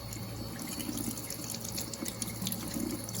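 Tap water runs steadily over hard-boiled eggs in a kitchen sink, a continuous close splashing hiss with faint drips and no speech.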